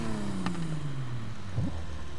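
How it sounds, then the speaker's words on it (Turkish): A BMW Z4 M40i engine in Need for Speed Heat turns over and settles into a steady low hum, its pitch gliding down and then jumping briefly as it revs. "Arabayı çalıştırdım."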